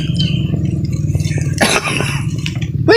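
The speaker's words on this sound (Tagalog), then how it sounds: "Inuubo na." A single cough bursts out over a steady low rumbling background, brief and close.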